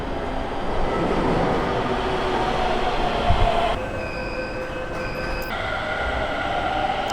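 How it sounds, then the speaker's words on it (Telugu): A metro train rumbles and accelerates away from the platform, its motor whine rising in pitch, with faint wheel squeal mid-way, loud and close. "ఎంత ఫాస్ట్గా పికప్ అయింది చూడండి బండి, కళ్ళ ముందే"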